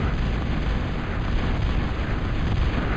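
Bombing explosions in a Total Annihilation strategy game on the map The Pass make a dense, continuous roar of overlapping blasts, loud and steady for three seconds with no voices.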